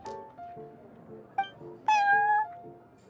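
Prince, a cat in the Genshin Impact video game, meows several times, ending in a louder, drawn-out meow near the end, with soft plucked music playing under it.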